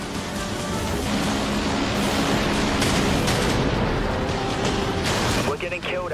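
A corvette spaceship fires its primary weapons in the Dreadnought video game, producing a continuous, loud wash of blasts and roaring weapon fire that thins out near the end.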